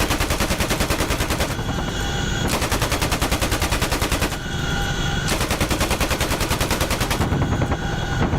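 Heavy machine gun fire in the DCS World combat flight simulator, loud and close, rattling in long continuous bursts with brief changes in tone every few seconds and no talking.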